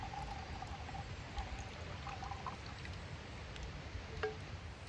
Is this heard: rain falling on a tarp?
no